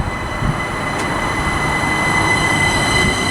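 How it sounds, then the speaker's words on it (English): Great Western Railway train 387146 pulling out of Newbury on the 16:15 service to Reading, a loud close rumble of wheels and traction hum with steady electric whine, continuous with no voices. "off goes 387146 on the 1615 Great Western Railway service to Reading from Newbury."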